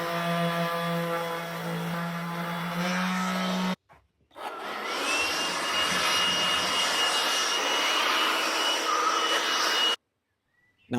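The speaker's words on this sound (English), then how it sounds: "Now I just sand away the pencil marks with 120 grit sandpaper." A loud, steady whirring and rasping of sanding with 120 grit sandpaper on a wooden coffee table runs continuously, drops out briefly partway through, then resumes before cutting off near the end.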